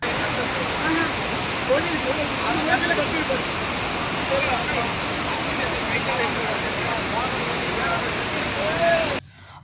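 The Courtallam main waterfall pours down in a loud, steady, dense rush of falling water where Hindu bathers gather for ritual dips, with faint voices in the crowd, before the sound cuts off abruptly at the end.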